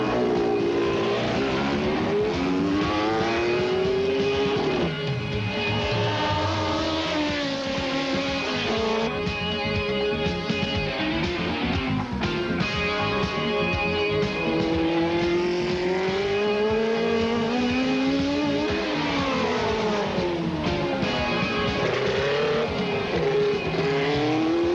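Formula 2 race cars from 1983 head out onto a rain-soaked Suzuka circuit, their engines screaming loud and close with continuous revving, rising and falling pitch sweeps as they accelerate and shift.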